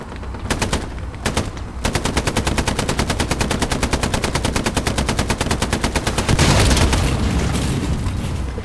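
Sustained machine-gun fire in a Sherman tank video game, a long rapid rhythmic stream of sharp shots after a few opening single bursts, loud and close, with a heavier boom near the end.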